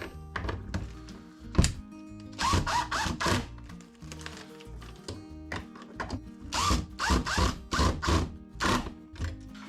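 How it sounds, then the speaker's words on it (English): A power drill whirs in a series of short bursts, some brief and some longer, with pauses and clunks between them, close by. "I'm going to cheat and use my drill"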